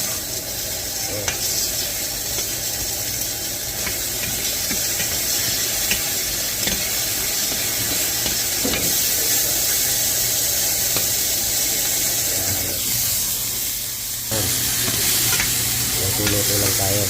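Eggplant, tomato and leafy greens sautéing in a pan, a dense, steady sizzle with occasional clinks and stirring scrapes, close and fairly loud, with a low hum underneath and no clear talk.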